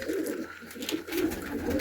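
Pigeons coo nearby in soft, repeated low throaty calls during a brief moment of loft care for sick birds with trichomoniasis.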